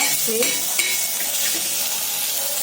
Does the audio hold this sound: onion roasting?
yes